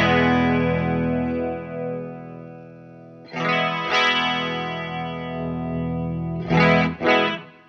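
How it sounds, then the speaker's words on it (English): A sustained electric guitar tone run through a Wampler Terraform modulation pedal set to chorus, wet signal only, shimmers and wobbles with a thick, swirling pitch modulation, with two fresh strums partway through and two sharp accents near the end. "it's sort of like the previous chorus with more chorus added to it"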